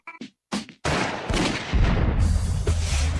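A handgun or revolver fires repeated shots from its magazine on a target range, a run of loud, close blasts after a few short opening bursts, with the reports overlapping into a dense, ringing roar.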